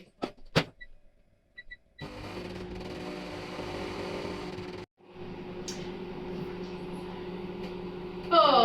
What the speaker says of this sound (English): Okay, so into the microwave we go.